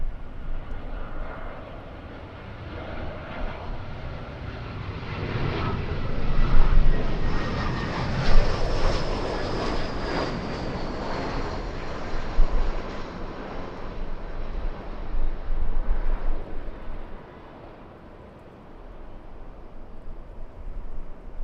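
A United Airlines airliner flying near LAX, its engine roar swelling to a loud peak as it passes close, then slowly fading with a faint whine, with no voices.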